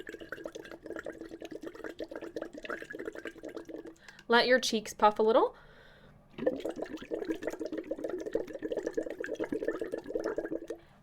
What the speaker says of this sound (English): Just blow some bubbles.